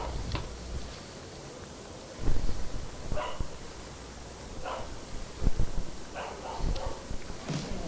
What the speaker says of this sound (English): you'll notice that the dog sound probably came from a dog in this guy's neighborhood